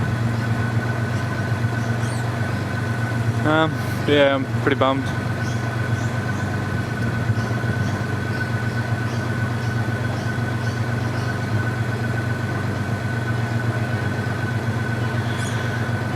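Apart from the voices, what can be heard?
car engine idling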